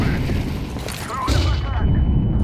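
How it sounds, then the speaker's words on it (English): A grenade blast in Counter-Strike 2 gameplay, a loud low boom rising mid-clip amid gunfire-like game noise, with voices talking over it. "I'm throwing a grenade."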